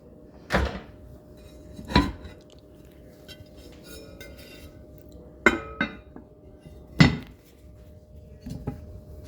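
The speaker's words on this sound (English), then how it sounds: "grab my Dutch oven" A Dutch oven is handled in a kitchen while preparing artisan bread, giving a few sharp, close metallic clanks and clinks spaced apart against a quiet background.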